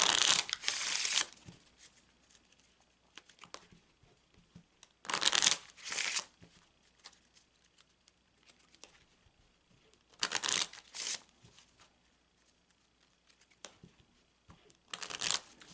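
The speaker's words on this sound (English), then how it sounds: "So now let's take that and shuffle that into the cards." Several bursts of tarot card shuffling, each a rapid riffling flutter lasting about a second, separated by quiet pauses; close and fairly loud, with no talking.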